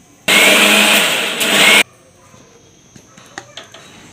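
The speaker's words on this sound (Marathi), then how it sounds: "आता मिक्सरच्या भांड्यात घेऊन मी हा मसाला अगदी बारीक असा मिक्सरमध्ये वाटून घेते" A loud, high-pitched whirring mixer grinder grinds spices to powder for about a second and a half, then cuts off abruptly, leaving faint clicks and rattles afterward.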